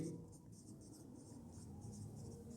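Pen or chalk scratches on a board during a class, a soft, close run of short strokes at low level.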